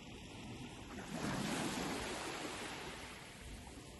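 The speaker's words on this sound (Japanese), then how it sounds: "カリブに浮かぶ南の島に打ち寄せるこの波が頭の中のいらないものを全部洗い流してくれます。" Caribbean waves break on the shore of St. Thomas island, one swelling wash of surf rising and slowly fading, soft and steady with light wind and no voices.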